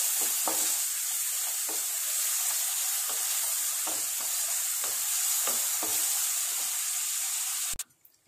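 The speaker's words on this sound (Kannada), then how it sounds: "ತಾಯ್ಕ ನೀರುಳ್ಳಿ ಪಾಡ್ಗ ಈರುಳ್ಳಿ ಅಂತ ಫ್ರೈ ಮಾಡ್ಕೊಳ್ಳಾಗಿದೆ" Onions frying in a pan: a steady hiss of sizzling oil throughout with faint, occasional ticks of stirring, fairly loud and close, ending with a sharp click and quiet.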